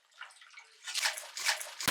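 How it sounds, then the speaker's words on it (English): Melted snow water is dumped into a bucket during a winter power outage, making a soft trickle and then a brief, close sloshing splash with a few sharp knocks. "we got a splash"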